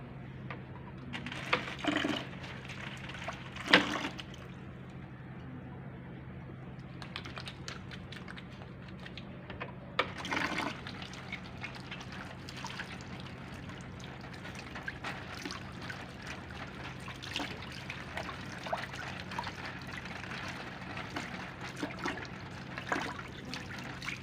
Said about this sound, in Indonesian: Kita akan melakukan pencucian tangan 6 langkah.